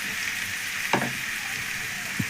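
Chopped vegetables and beans sizzling in a hot pan for a spicy snack, a constant crackling fry with a couple of soft stirring scrapes, close up and with no talking.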